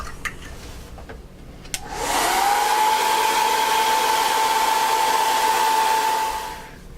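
Hair dryer blowing on a board freshly coated in acrylic paint, starting with a few clicks and then running as a loud, steady whoosh with a constant whine for about four seconds before cutting off.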